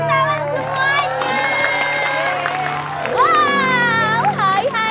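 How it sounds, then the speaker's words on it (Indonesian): A crowd of children cheers, shouts and claps at an Indonesian Independence Day children's studio show. The sound is loud and continuous and lasts the whole stretch, with excited voices rising over the steady noise. "Yeay, tepuk tangan semuanya."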